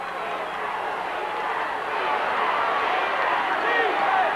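A crowd roars steadily from both sides of the field at a 1991 high school football game, CCHS against Cadiz, a broad, continuous cheer that builds slightly louder toward the end.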